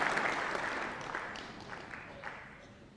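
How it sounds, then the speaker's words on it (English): A snooker audience in a large hall applauds a shot at a professional tournament final, a steady wash of clapping that slowly fades, heard at moderate distance with no clear voices. "Crowd applauding"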